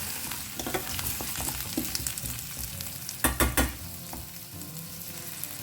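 Hog plums being mixed in a hot pan for a Goan-style curry: continuous sizzling frying with clustered scraping and clattering stirs, louder knocks near the middle, close and without speech.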